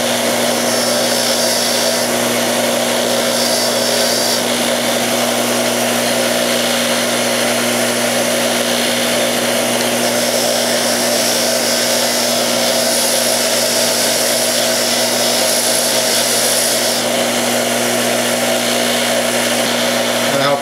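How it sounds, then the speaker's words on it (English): Wire brush on a bench grinder scrubbing old parts from an antique Singer treadle sewing machine, a loud steady whirring hum with gritty scraping held continuously from start to finish, close by and alone. "This is just a wire brush on my grinder."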